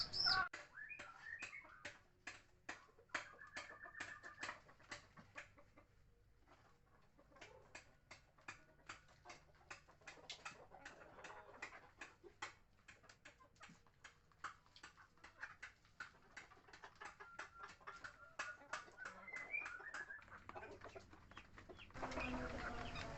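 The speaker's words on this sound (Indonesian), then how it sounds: "bagaimana nafsu makan ayam-ayam ini ketika pakannya diberi campuran air probiotik dari ayam 4" Chickens peck rapidly at feed mixed with EM4 probiotic water, giving quick rhythmic tapping with soft clucks, faint and close, and no talking.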